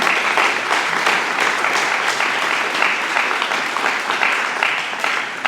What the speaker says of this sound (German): Nochmal Applaus für die beiden.